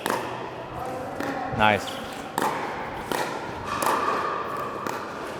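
Pickleball paddles tap dink shots in a steady back-and-forth rally of sharp hollow pops during a coaching camp drill, with a coach's voice briefly over them.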